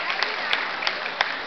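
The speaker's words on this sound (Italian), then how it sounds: "Un grande applauso per i ragazzi di Resident Evil" Applause from a comics convention audience, a steady wash of many hands with a few louder claps standing out, fairly distant and moderately loud across the whole span.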